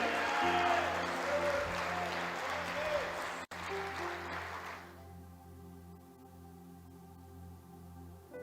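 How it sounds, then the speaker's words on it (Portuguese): A church congregation claps loudly and steadily, then the applause fades away midway, leaving sustained musical tones humming underneath. "Aplaude o teu Deus direito, aplaude, povo de Deus."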